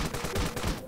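In the game Ravenfield a newly unlocked gun fires a short, rapid burst of several shots in under a second, loud and close with no talk.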